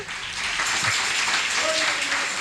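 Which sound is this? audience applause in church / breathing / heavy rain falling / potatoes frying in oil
audience applause in church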